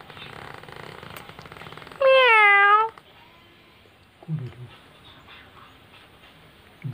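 A cat gives one loud, clear, drawn-out meow up close, standing out above a quiet room with faint background voices and a few low thumps afterward.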